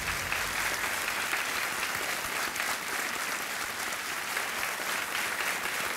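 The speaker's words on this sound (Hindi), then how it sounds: "तालियां बजती रहे इनके लिए।" A studio audience on the Kaun Banega Crorepati quiz show applauds a contestant's correct answer, a steady, even wash of clapping sustained throughout at a moderate level.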